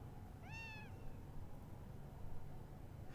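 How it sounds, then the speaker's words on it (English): A small stray cat in the No More Heroes game gives a single short rising-falling meow, faint against a low ambient hum, with no talk. "How the hell did a little cat like that manage to get all the way here?"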